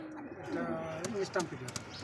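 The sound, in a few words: English Trumpeter pigeons cooing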